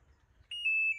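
An automatic washing machine gives a single clear, steady electronic beep about half a second long right after its start button is pressed, with quiet room tone before it.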